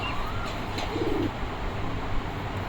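Pigeons of a fancy Madrasi breed, kept as a pair on a loft stand, give a short low coo over steady background noise, faint and brief, with no talking.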